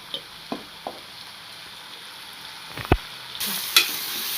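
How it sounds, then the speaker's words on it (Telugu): Pieces of bottle gourd drop into a sizzling pan of green-chilli curry, with a few soft knocks and a scrape before the frying hiss surges loudly near the end. "ఇంకా మిగతా ఉన్న సొరకాయ ముక్కలు వేసేస్తున్నాను ఫ్రెండ్స్"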